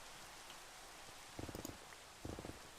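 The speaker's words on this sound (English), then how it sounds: "It's pouring rain." Heavy rain pours in Minecraft as a steady, faint hiss of falling water, with two brief bursts of soft crackly pattering standing out.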